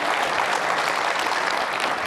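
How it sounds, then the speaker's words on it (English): An audience applauds at a podcasting conference keynote marking podcasting's 20th anniversary, a dense, steady wash of many hands clapping with no voices over it. "let's give ourselves a round of applause"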